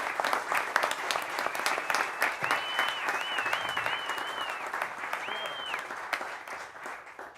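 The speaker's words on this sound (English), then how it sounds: "Let's give him a round of applause." An audience at a youth jazz orchestra night at Monks, Austin, applauds a drum instructor: a loud wash of clapping, with a whistle cutting through partway and a second shorter whistle near the end, then tapering off.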